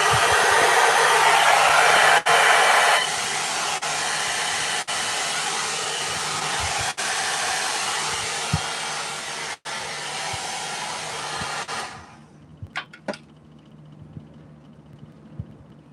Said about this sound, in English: This may need a little help from my blow dryer